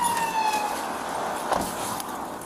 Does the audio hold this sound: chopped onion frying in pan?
no